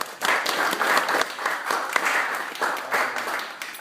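Audience applause at a Solarize Decatur-DeKalb solar open house, a moderately sized crowd clapping steadily and close by in uneven waves for nearly four seconds.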